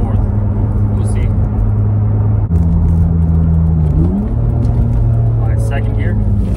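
Acura TL with a deleted clutch slave cylinder check valve, accelerating through the gears: a loud, steady engine drone heard from inside the car that dips and climbs again as a gear changes, with road rumble underneath.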